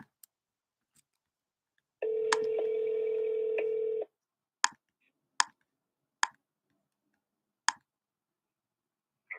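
A telephone being dialed: a two-second dial tone, then a series of separate clicks and short tone bursts spaced about a second apart, clean and close with no talk.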